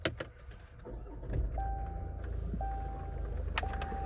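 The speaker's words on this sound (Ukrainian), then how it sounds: "Зараз заведемо автомобіль." A 2018 Land Rover Range Rover cranks over and settles into a low, steady idle, with a faint chime repeating periodically inside the cabin.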